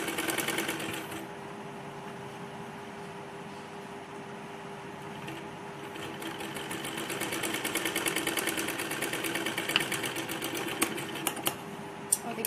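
Sewing machine stitching the lining of a kurti, a steady, moderately quiet whir of running stitches that carries on with no break and picks up slightly toward the end.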